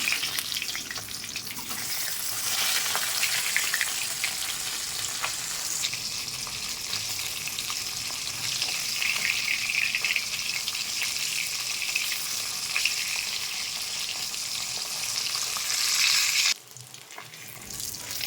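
Steady, bright sizzling as flipped parshe fish fry in mustard oil in a wok, with crackles throughout, then a sudden drop in the hiss near the end before it resumes.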